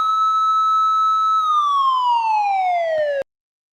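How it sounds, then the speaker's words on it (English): Police siren sound effect: a loud, clean wailing tone holding steady, then sliding steadily downward in pitch before cutting off abruptly, with no other sounds. "I give you the sound of the police siren"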